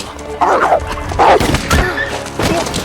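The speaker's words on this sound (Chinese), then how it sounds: "对方竟还带着凶狠的猎犬" A fierce hunting dog in a film chase scene, barking in loud, close bursts of three or four sharp barks with short yips between, no talk over it.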